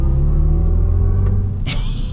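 A 2026 Chevy Silverado EV Trail Boss electric pickup pulls away under acceleration with a loud, steady low rumble and a rising tonal whine, plus a brief bright burst near the end.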